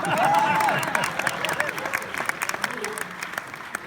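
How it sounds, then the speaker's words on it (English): Audience applause at a Q&A panel for the series The Old Man, a dense burst of clapping filling the hall and thinning out over a few seconds while a voice briefly talks over the start. "Go ahead, give it applause."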